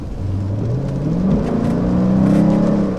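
A 2014 Mercedes SLK 55 AMG with about 34,000 km and a naturally aspirated engine drives along, its motor steadily climbing in pitch as it accelerates, a close, smooth rising drone with no voices.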